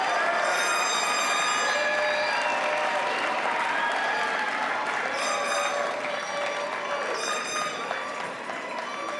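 A large crowd of graduating bachelor's degree candidates at a commencement ceremony applauds and cheers loudly and continuously, with whistles and shouts rising through the steady roar.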